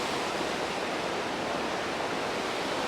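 A river flowing near Ogmore by Sea, a steady broadband rush of moving water heard close and continuous with no pauses or voices.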